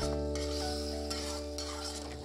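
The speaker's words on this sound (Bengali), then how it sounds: "মশলাটা এবার ভালো করে কষিয়ে নেব" Spice paste of salt, turmeric, cumin, coriander and red chilli powder being stirred and fried in oil in a pan during village-style egg cooking, a steady close sizzle with scraping spoon strokes and a low constant hum underneath.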